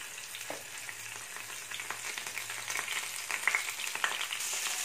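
River fish (jilebi kendai) frying in a pan, a steady close crackling sizzle that stays fairly even throughout, with a few brief spatters and a faint low hum underneath.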